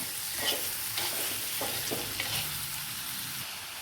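Onions and chopped tomato sautéing in a pan for a coconut milk fish curry, a continuous broad sizzle with repeated scraping strokes of a stirring spoon.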